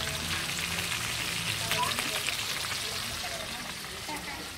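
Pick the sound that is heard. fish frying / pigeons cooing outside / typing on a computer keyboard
fish frying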